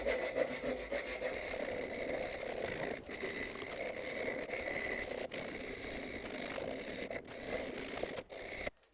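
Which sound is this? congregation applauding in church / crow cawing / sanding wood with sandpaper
sanding wood with sandpaper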